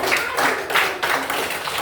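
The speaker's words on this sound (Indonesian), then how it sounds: "Tepuk tangan dulu untuk si Moses" A group claps together, steady dense applause lasting under two seconds, close and fairly loud.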